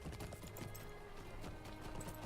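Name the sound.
horse hooves while riding, from video game LOTRO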